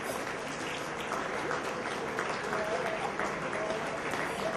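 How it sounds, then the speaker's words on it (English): Applause from a standing gala audience, a continuous wash of many hands clapping at steady volume, with faint voices mixed in beneath the clapping. "Stand up and give yourselves a round of applause."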